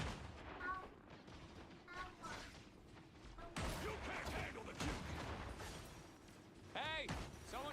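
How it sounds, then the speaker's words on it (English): Video game gunfire crackling in repeated bursts over several seconds, mixed with heavy booms and game effects, with a voice talking over it. "someone's shooting at us"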